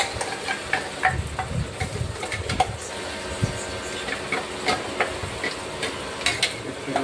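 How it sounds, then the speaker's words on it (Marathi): Ground spice paste added to sliced onions browned in oil in a pan, frying with a steady sizzle and intermittent stirring scrapes and ticks, fairly close, no talk. "त्याच्यामध्ये मी झालेलं वाटण टाकत आहे."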